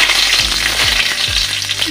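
A bay leaf drops into hot oil in a pan, setting off a loud, steady sizzle and crackle with a few low scraping or clinking knocks beneath.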